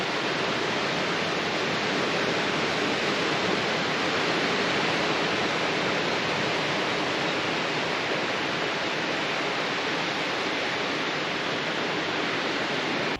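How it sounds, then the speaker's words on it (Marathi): Arabian Sea surf breaking below the cliffs of Ratnadurg Fort on the Konkan coast, a steady, dense roar of waves that holds evenly loud from start to finish with no voices. "अथांग पसरलेला हा अरबी समुद्र."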